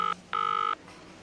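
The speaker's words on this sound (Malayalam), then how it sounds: "അവിടെ നിന്ന് മാറി ആരെയോ ഫോൺ ചെയ്തു" A telephone being dialed: a short keypad tone followed by a longer one, both clear and close, with faint room hiss after and no talk.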